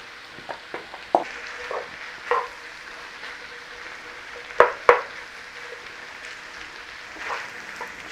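Mushrooms tossed into a pan with garlic, with faint sizzling throughout and a few clattering stirring knocks, louder around the middle.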